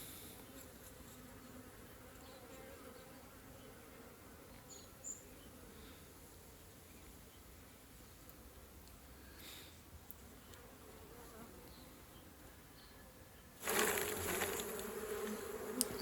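A dense, continuous hum of many honey bees buzzing around a hive nearby, swelling louder toward the end with a brief rustle.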